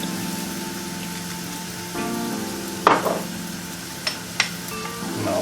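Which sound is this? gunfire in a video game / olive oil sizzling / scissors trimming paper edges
olive oil sizzling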